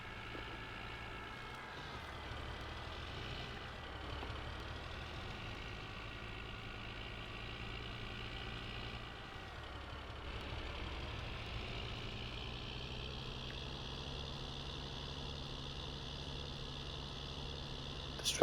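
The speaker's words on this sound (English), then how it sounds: "This tractor really isn't powerful enough to go up the hills." Tractor engine running in the farming video game Greenlands, a steady low droning rumble with a constant hum that shifts slightly as it strains on hills, continuous and moderately quiet.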